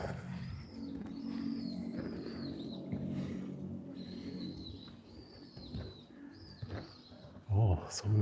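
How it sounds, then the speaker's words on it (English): Birds calling on a sunny, calm afternoon in Tokyo: repeated thin chirps and whistles over soft dove coos, with a low hum of the surroundings and a louder close flutter near the end. "Oh, so many birds singing."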